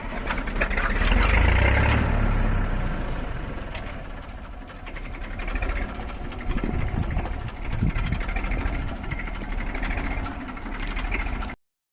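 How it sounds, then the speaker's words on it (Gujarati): A tractor's diesel engine runs steadily close by on a farm, its low throbbing chug loudest at first, then settling into a constant mechanical drone before cutting off. "હવે ટ્રેક્ટર ધક્કા મારશે"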